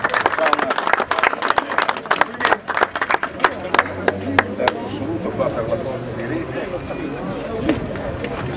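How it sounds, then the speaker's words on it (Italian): Applause breaks out for Massimo Reggianini, winner at a 2014 match fishing cup, sharp close claps rapid and uneven at first, thinning out as a voice speaks underneath. "Bene, un applauso a Massimo Reggianini."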